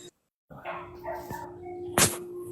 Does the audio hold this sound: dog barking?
yes